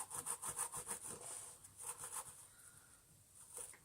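The bristles of an Electrolux vacuum cleaner brush are rubbed by hand, making quiet, close, rhythmic scratchy strokes in a quick run, a short pause, then another burst.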